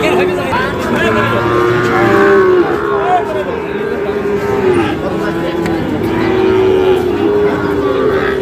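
Sahiwal bull calves moo at a busy cattle market, long low drawn-out calls sounding close and loud over a steady hum of crowd noise and voices.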